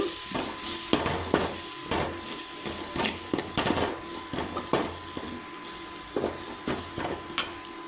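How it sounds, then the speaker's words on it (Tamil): Ingredients for a cauliflower egg curry, seasoned with chicken kebab masala, being stirred and sautéed in a pan: continuous close sizzling broken by repeated scraping and clinking strokes of the spoon, with no voices. "இது கொஞ்சம் சேர்த்துக்கிறேன் சேர்த்து நல்லா வதக்கிக்கோங்க"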